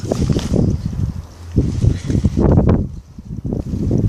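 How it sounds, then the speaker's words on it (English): Gusty wind buffets the microphone in rising and falling rumbles, loud and close, with no voices. "and it's windy out"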